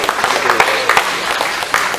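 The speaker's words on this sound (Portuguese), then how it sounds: "E agradeço Jesus com bastante palmas" A church congregation claps during a morning service in Belo Horizonte, producing dense, steady applause with a few sharper peaks from nearby hands, heard alone at a fairly loud level.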